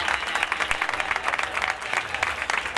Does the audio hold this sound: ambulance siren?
no